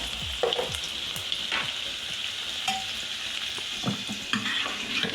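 Garlic and cumin sizzle in hot oil as a tempering, a steady close hiss of frying under occasional soft spoon taps and stirring knocks, with no one speaking.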